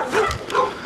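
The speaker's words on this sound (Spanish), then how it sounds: "Los perros están ladrando" Dogs at night outdoors giving a few short, muffled bow-wow barks and yips, fairly distant and soft, within a one-second burst over low background noise.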